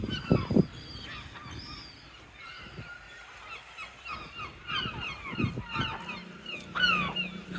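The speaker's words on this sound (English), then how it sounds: "Some sort of seagull drama going on at the moment. They're going absolutely mental everywhere." Seagulls squawk and honk in a frantic commotion, several birds calling over one another near and far, loud bursts rising and falling outdoors with no talking.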